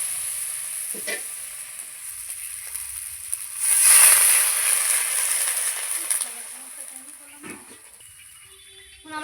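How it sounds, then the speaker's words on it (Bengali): Water poured into a pan of frying spices and potatoes for a shol fish curry sets off a sudden loud sizzling hiss that bursts up, then slowly fades, with quieter kitchen clinks before and after. "আমি এখন এভাবে একটু জল দিয়ে দেবো"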